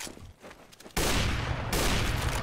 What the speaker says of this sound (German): War schon durch, wie man halt gehört hat, der hat halt schon geschossen.